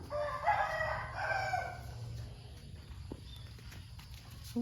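A rooster crows once in the distance, with a low steady rumble and scattered faint background noise behind it.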